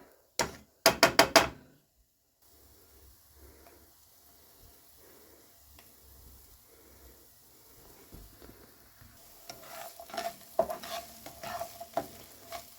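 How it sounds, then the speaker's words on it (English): Onions being stirred and coated in oil in a pot for one-pot chili, a few sharp scraping clacks at first, then a soft sizzle with light intermittent spoon scrapes that grow busier toward the end, close and moderate. "So the onions are in. I'm just going to get them coated with oil."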